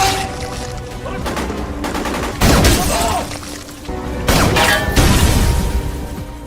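Gunfire in a war film as an Iranian sniper attacks Iraqi soldiers, heard as loud, close bursts and sharp cracks layered over a dense battle soundtrack.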